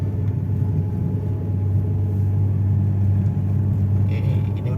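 Steady, loud droning hum of a Toyota Agya automatic car engine straining uphill in second gear at about 3000 rpm, a constant close rumble heard from inside the cabin.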